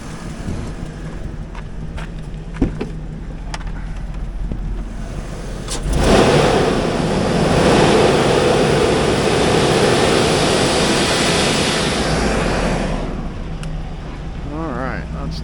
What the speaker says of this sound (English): Let you hear it run.